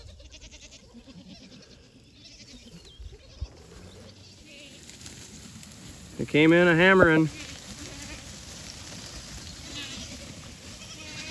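A single loud, close bleat from a farm goat or sheep rises briefly amid a large flock being moved outdoors, with someone talking quietly before it and wind noise underneath.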